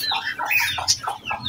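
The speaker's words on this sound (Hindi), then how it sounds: "ये दोनों ही मुर्गे हैं" Two roosters cluck and squawk in short, uneven bursts, close and fairly loud, with a low background rumble.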